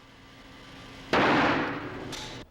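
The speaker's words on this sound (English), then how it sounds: "If the mixture is exposed to a flash of laser light, the mixture explodes" A hydrogen and chlorine gas mixture explodes when struck by a flash of laser light: a sudden loud blast with a rushing, slowly fading roar, then a second burst near the end, with no talking.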